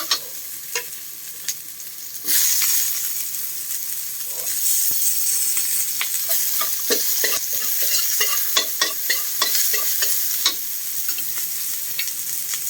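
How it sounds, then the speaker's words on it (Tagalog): Food sautés in a pan for a coconut milk stew with tuna and eggplant; a loud hissing sizzle bursts in after a quiet start and continues steadily, punctuated by frequent scraping clicks of stirring. "magigisa na tayo. Gagata na tayo mga buko."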